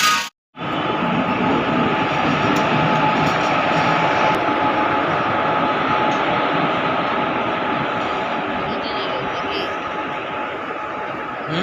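The Maldah Express, train 13417, rolls into platform six at Asansol station with a loud, continuous rumble and rail noise that rises after a brief silence and holds steady throughout.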